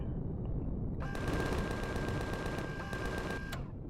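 Spaceship guns in the Empyrion game fire in a loud, rapid burst of repeated shots lasting a few seconds before cutting off abruptly.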